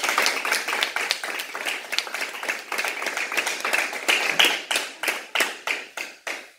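Church congregation clapping during an evening sermon, steady rhythmic claps that thin out near the end into a few separate, slower claps.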